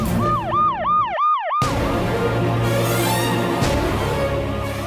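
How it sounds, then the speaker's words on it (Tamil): A wailing emergency siren sweeps up and down in quick repeated cycles near a house, loud and close, then cuts off abruptly and gives way to a steadier engine and traffic rumble. "அதுவும் நான் ஸ்டாப்பா சைரன் சத்தம் கேட்டுட்டு இருக்கு"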